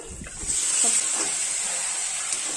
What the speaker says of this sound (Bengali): মাংসটা ঢেলে দিলাম